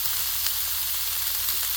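Peppers and onion sauté on an electric griddle in a steady, close hiss of sizzling that holds even and unbroken through the short moment, with no talk.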